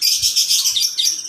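High in a treetop, a black-naped oriole gives a steady stream of sharp, twittering call notes, loud and continuous, with a faint low rumble underneath and no voices.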